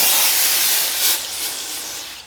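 Brake cleaner sprays from an aerosol can onto titanium lug stud extensions for a McLaren supercar, a loud, close, steady hiss that eases off slightly near the end.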